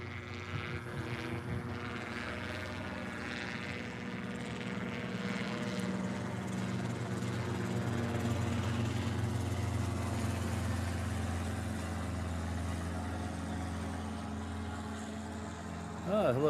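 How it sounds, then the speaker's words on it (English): An Airbus A321 airliner approaches Honolulu airport, heard as a steady, fairly distant engine roar with a low rumble that holds evenly and swells slightly toward the end. "Next one in will be a 321."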